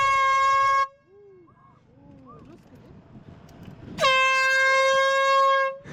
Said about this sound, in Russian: И сейчас вот у нас тестируем гудок